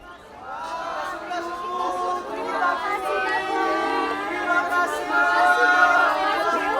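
A crowd of townspeople talking outside in a radio drama, a dense steady murmur of many overlapping voices that swells slightly louder toward the end, heard alone without any close dialogue.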